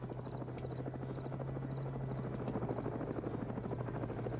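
A helicopter in a modern-day military PvP combat game gives off a steady, droning rotor hum that holds at an even level throughout, with no talk over it.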